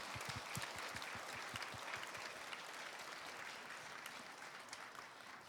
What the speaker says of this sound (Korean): 우리 아울리치 팀과 비전 트립 팀을 향해 뜨겁게 박수하겠습니다